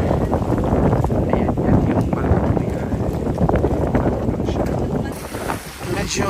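Strong wind buffets the microphone aboard a boat in choppy water near Banana Island, Coron, a loud continuous rumbling roar that eases briefly near the end.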